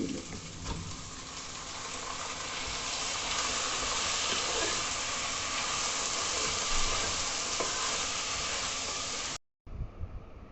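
Prawns tipped into a hot pan for a Kerala prawn curry give a steady, close, bright sizzle and hiss that holds evenly for several seconds, then cuts off abruptly near the end.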